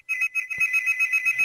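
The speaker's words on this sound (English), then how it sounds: "And the phone always rings more when you're interviewing." A landline telephone rings close by with a steady electronic trill that pulses rapidly and evenly, loud and alone with only faint background knocks.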